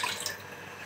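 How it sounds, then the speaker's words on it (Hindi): A glassful of water is poured into a heated kadhai, giving a brief splashing, trickling wash that fades quickly. "इसमें मैं डाल रही हूँ पानी एक गिलास"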